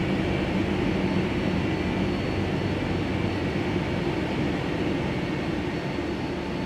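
An aircraft engine in the video game Microsoft Flight Simulator 10 holds a steady, loud, broadband roar without change, no voices over it.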